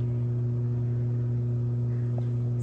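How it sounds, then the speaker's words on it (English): A steady mechanical hum with a strong low drone and constant hiss from an Aquaterra Fairfax hot tub's filter jet running continuously, with no other sounds. "here is a video with just the filter jet running"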